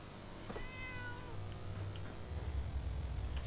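Cat meowing in the video game Fallout 4, a single faint rising-then-falling meow over a low rumbling game ambience.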